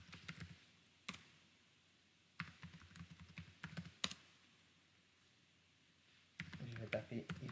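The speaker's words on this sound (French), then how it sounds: "Je vais taper ifconfig." Someone types the ifconfig command on a computer keyboard while logged into a Metasploitable Linux machine, in quiet, irregular bursts of clicking keystrokes with pauses between, close but faint, with a voice talking.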